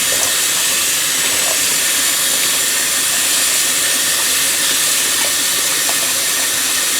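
Cold water runs hard from a tap over cooked chow mein noodles in a colander, a loud continuous rushing hiss that stays steady throughout.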